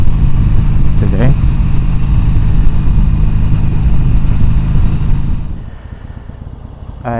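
Harley motorcycle engine rumbling steadily on an open road during a commute, a loud continuous low drone that eases and quiets near the end.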